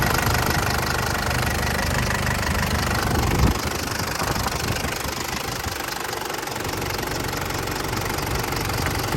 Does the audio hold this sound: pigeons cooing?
no